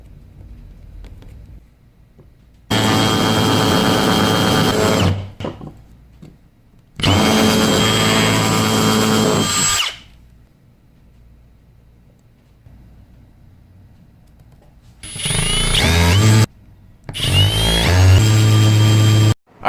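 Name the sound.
drilling holes in tray bracket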